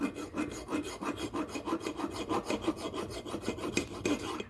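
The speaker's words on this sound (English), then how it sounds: "run through the caliper bracket like so, taking off any rust" Rust is scraped off a 2010 Honda Civic brake caliper bracket in quick, rhythmic strokes. Each one is a close, gritty rasp in an even back-and-forth pattern.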